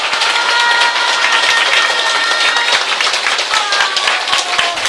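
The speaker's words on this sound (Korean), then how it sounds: "여러분 큰 박수 주시기 바랍니다." Audience at a weekend lecture gathering in Korea bursts into sustained applause, dense rapid clapping that stays loud and even for the whole stretch.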